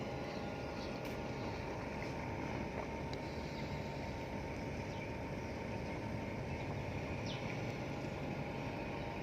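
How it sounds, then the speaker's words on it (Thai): A steady engine drone with broadband rumble runs throughout as a fishing boat is towed out on the Pattani River toward the Gulf of Thailand, constant and unbroken. "ก็จะมีเรือประมงลำหนึ่งกำลัง ถูก ลากออกไปนะครับ มุ่งหน้าไปทางทะเลอ่าวไทยนะครับ"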